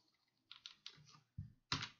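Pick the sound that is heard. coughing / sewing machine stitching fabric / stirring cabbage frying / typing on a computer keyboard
typing on a computer keyboard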